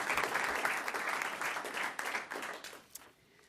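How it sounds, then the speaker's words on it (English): Audience at a school district board meeting applauding AVID students, a steady round of clapping from a crowd that fades out near the end, with no talk over it. "Let's have a nice round of applause for these great Avid students."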